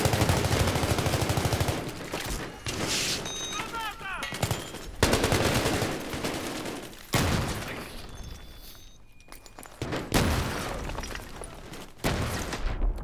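Heavy gunfire from the game Battlefield 3 fills the scene, with repeated automatic bursts and single shots crackling loudly and near, broken by short pauses and a few distant pops.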